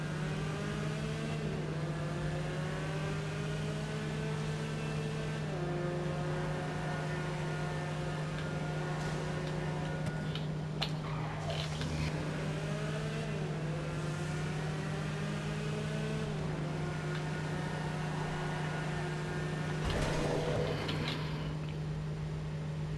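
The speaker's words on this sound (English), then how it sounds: "the next car we're gonna test is the Lotus. So let's take this thing out for a spin." A Lotus sports car driven in GTA V Online hums along with a steady engine drone and rising and falling revs as it shifts and accelerates, loud and continuous over a constant electrical hum.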